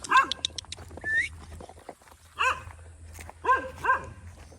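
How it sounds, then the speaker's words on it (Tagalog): Several dogs bark in short bursts nearby on a farm, some barks overlapping, with a whine between them over a low steady hum. "Tinatahulan na naman ako ng mga aso."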